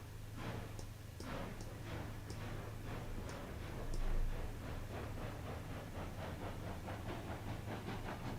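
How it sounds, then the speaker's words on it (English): Train in a railroad simulation game pushing pipe cars and boxcars onto another track, with a steady low engine rumble under repeated rhythmic clanks and ticks of rolling cars, moderately loud and continuous. "I'm gonna pull forwards, and I'm gonna push the pipes and boxcars onto another track"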